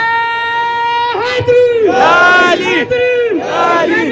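A large crowd at a union rally roars back a religious slogan in loud, unified bursts, several swelling shouted responses overlapping close by with a strong chanting voice between them.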